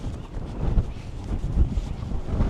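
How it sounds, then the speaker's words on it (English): Strong wind buffets the microphone outdoors on Alcatraz Island in a constant low rumble with gusty swells, and nothing else is clearly audible. "Oh, it's so windy."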